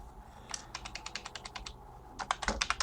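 Rapid keystrokes on a computer keyboard, picked up by a desk mic mounted over the monitors: a steady run of clicks, a brief pause, then a quicker, louder burst, with no talking.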